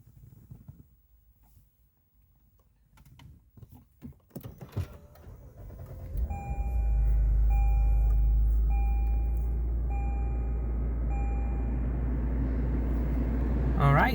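A 2019 Lexus RC 350 starts with a loud rising engine rumble that settles into a steady idle, while a regular series of dashboard warning chimes sounds above it.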